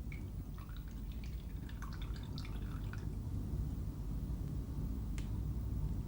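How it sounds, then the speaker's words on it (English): Water dripping from the outlet end of a large sludge filter press, with scattered drips and small splashes over a low, constant industrial rumble, and a single sharper drip near the end. "at the other end you get clear water"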